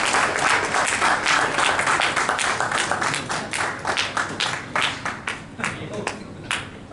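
Applause from an audience at a SMEDA–JICA ceremony recognising auto parts manufacturing support in Pakistan, as a team member receives a shield and certificate; dense, steady clapping from many hands that thins toward separate claps near the end.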